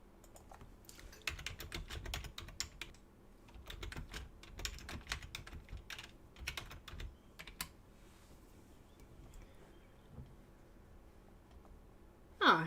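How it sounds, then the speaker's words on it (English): Fingers type on a computer keyboard nearby in quick, uneven bursts of clicky keystrokes, pausing now and then and thinning out toward the end, with no talking over it. "getting my keyboard out here"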